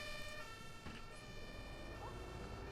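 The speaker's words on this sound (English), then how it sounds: "it dampens the sound of the sirens" An ambulance siren in OMSI 2, heard from inside a MAN D92 bus, comes through muffled and faint, a steady wailing tone dulled by the bus body over low engine rumble.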